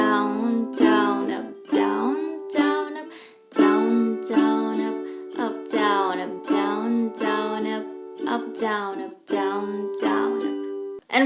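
Ukulele strummed through the chord progression of a song in a steady down-down-up pattern, bright ringing chords with regular rhythmic strokes, close and alone without voices.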